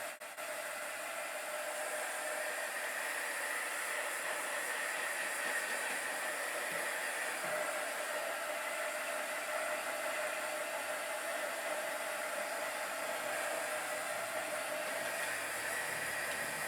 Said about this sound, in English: That is an embossing gun, so it gets really, really hot.